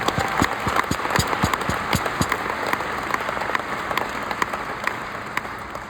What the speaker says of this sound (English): Please give Tim a round of applause.